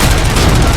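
Gunfire in the video game RoboCop: Rogue City: a loud, dense, continuous burst of rapid shots filling the whole moment, with no talking.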